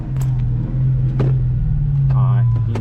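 A supercharged Saleen Mustang idles close by with a loud, steady low rumble, punctuated by a few brief revs, while people talk over it.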